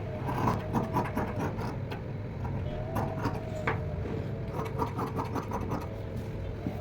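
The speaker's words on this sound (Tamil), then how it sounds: "முதல்ல அந்த பின் வளைவை தான் நம்ம வெட்டணும்." Scissors cut fabric for a blouse sleeve, snipping the back armhole curve during tailoring; steady close scraping and crunching runs continuously with repeated short cuts and no talking.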